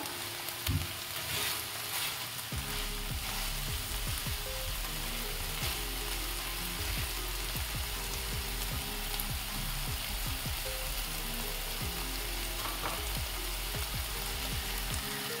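Vegetables fry in a pan for a restaurant-style veg chicken soup, making a continuous even sizzle under a low steady hum, with faint scraping as they are stirred; no voices.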